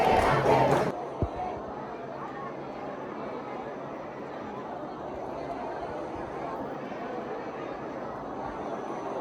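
A large crowd of devotees gathers at the Radha Rani temple in Barsana, with dense, steady murmur and chatter throughout and a louder burst of voices at the start.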